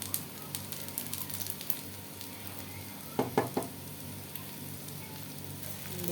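Mustard oil sizzles in a pan, heated for tempering while cooking taro, a soft steady frying hiss with a short cluster of utensil knocks against the pan midway; no talking.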